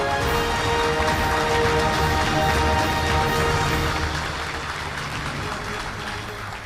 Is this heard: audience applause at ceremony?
yes